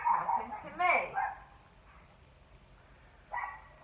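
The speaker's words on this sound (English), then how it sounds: "Excuse these dogs barking," Several dogs bark in short bursts, loud and close, with a quieter yip near the end and long gaps of near-silence between.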